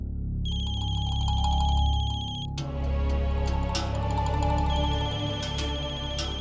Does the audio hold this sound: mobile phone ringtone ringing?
yes